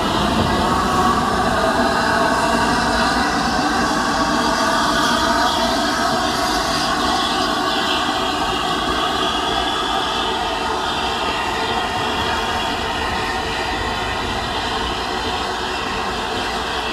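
The Flying Scotsman, a 1923 steam locomotive formerly run by British Railways, rolls past with a steady rumbling roar and rail noise, a sustained loud drone with faint rhythmic clatter and no talk.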